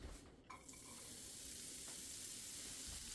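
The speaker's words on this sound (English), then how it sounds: "The first thing we're going to do is sweat off our shallots." Shallots sweating in a pan over low heat for a cherry chutney, a soft, steady sizzle that settles in after a few faint clinks and stirs at the start, quiet and continuous throughout.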